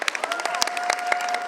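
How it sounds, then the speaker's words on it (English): Steady audience applause at a convention panel for the guests of honor, dense clapping sustained throughout at moderate distance, with no talk over it. "let's have another huge round of applause for our guests of honor"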